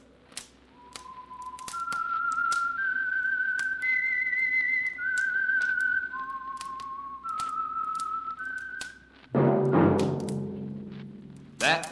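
A solo whistled radio-drama theme, the Whistler's signature melody, rises and falls in long clear notes punctuated by sharp taps. A loud orchestral chord bursts in near the end.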